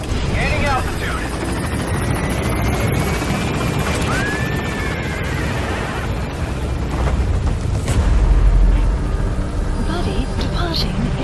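A B-Quad helicopter in Metal Gear Solid V climbs away from a landing zone, its loud rotor and turbine roar rising in pitch, with a heavy rumbling thump toward the end.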